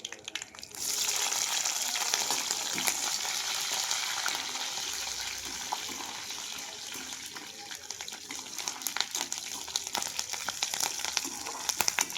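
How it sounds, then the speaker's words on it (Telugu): A steady, loud sizzle of cumin seeds frying in hot oil for tempering fills the clip with a crackling hiss and occasional sharp pops. "ముందుగా తాలింపు కనుకలా చేసుకున్నాను ఇప్పుడు జీలకర్ర చేసుకుంటున్నాను"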